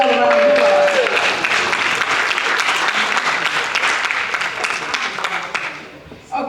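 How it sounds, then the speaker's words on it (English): A graduation crowd at an ombudsman class ceremony claps in a full, sustained round of applause that holds steady and then tapers off toward the end. "Let's give him another round of applause"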